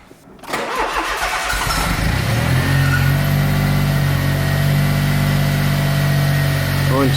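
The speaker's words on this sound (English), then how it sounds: "So I'm just going to quickly give this car a start." A Smart car with a newly installed water pump and engine cranks briefly, catches, and settles into a loud, steady idle close to the microphone.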